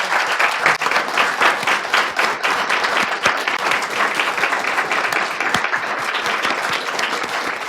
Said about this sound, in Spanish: me gustaría que le diéramos un muy fuerte aplauso a Nona.